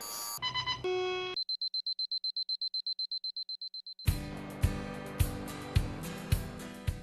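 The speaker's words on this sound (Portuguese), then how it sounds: "nós recebemos alarmes a cada 4 ou 5 segundos." A series of electronic alarm tones: a few stepped beeps, then a rapid run of evenly spaced high beeps, then sharper repeated chimes, in a Jack Daniel's distillery control room full of monitors.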